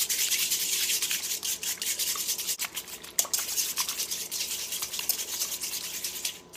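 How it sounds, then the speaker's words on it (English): Three eggs whisked hard in a mixing bowl for jam tarts, a steady rapid scratchy tapping of the whisk against the bowl that continues alone and close throughout. "crack 3 eggs into your mixing bowl, and you're going to want to whisk these really well together."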